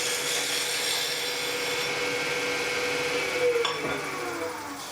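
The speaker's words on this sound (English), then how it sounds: "you can see I did not have the lathe really turned up fast at all" A wooden handle insert spins slowly on a wood lathe while a tool scrapes across it, producing a soft, continuous rubbing hiss with a brief sharper scrape near the end.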